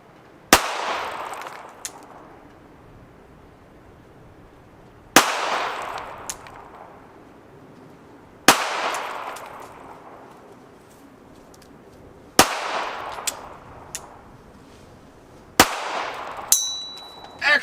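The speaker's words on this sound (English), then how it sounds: "he's going to shoot 5 rounds into the terminal T" A pistol fitted with an RMR red-dot sight fires five slow, deliberate shots at a range target; each sharp crack rings out alone, spaced several seconds apart, with a brief decaying echo.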